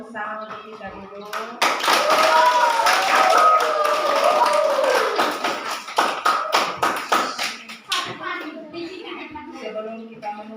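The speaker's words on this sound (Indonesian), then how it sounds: "Tepuk tangan untuk kita dulu." Children in a primary school classroom clap in a burst of sharp, rhythmic claps after a short stretch of talk, then the clapping thins to scattered taps as voices return.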